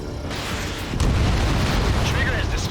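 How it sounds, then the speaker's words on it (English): Explosions in the Ace Combat 7: Skies Unknown video game, a sudden heavy boom that swells into a dense, rumbling roar of blasts and debris, with game sound layered over it. "There were a lot of explosions"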